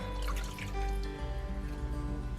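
Water poured quickly into a pan of simple, bare-bones homemade pasta sauce, a steady liquid trickle and splash heard up close with kitchen background hum and no voices.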